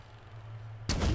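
A single sudden heavy impact strikes the Razorback vehicle in Halo Infinite, a loud booming hit breaking in after a quiet low engine hum, with no talking.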